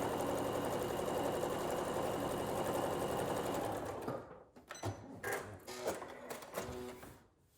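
Sewing machine running a straight stitch down an envelope pillow: a steady close whirring chatter for about four seconds, then halting short bursts and clicks as it slows.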